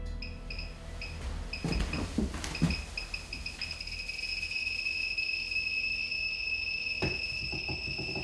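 A Gamma Scout Geiger counter near a radioactive sample clicks in scattered bursts and gives out a high electronic beep. The beep starts as short repeated chirps and then holds as a continuous tone against a quiet background.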